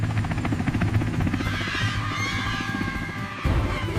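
A helicopter flying in a children's story, heard as a dense, continuous rotor-and-engine drone with low thumping, steady and fairly loud throughout.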